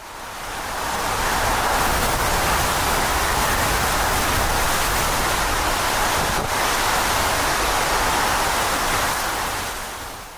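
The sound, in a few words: storm waves crashing during Hurricane Erin, Outer Banks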